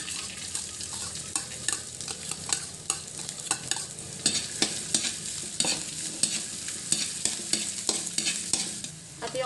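Onions sautéing in a pan for sarciadong isda give off a steady sizzle with frequent clicking spatula scrapes and taps throughout, close and moderately quiet, with no voices.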